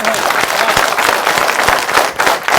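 Loud, dense applause from a large audience at a New Year comedy poetry gathering with CRPF troops, sharp individual claps and possible cheers running throughout.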